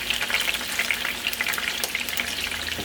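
Fish sizzles steadily in mustard oil in a pan, a dense, continuous crackling hiss with faint scattered pops, close and even throughout, no voices.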